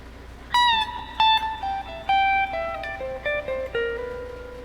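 Guitar plays a descending solo lick from a song, a string of clear single notes with a hammer-on, picked one by one in a short even run over low background hiss.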